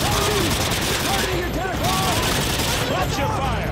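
Sustained gunfire from Call of Duty 4: Modern Warfare, loud and continuous throughout, with shouted voices and radio-style speech mixed over the shooting.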